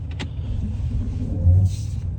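A car's engine rumbling low and steady from inside the cabin while driving away from a garage, with a slight swell partway through.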